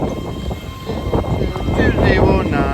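An express train pulls out of Newcastle station bound for Edinburgh Waverley, a broad rumble that swells as it moves, with faint wheel squeals rising near the end.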